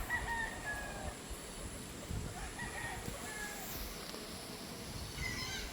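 Gamefowl stags crowing in a farm holding area, with faint distant crows repeating over steady outdoor background noise.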